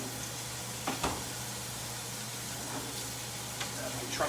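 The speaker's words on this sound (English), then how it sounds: "starting to fry up nice. Mushrooms, onions." Mushrooms and onions frying in a pan for a homemade sauce, a steady close sizzle with occasional stirring scrapes from a wooden spoon, and a voice talking over the cooking.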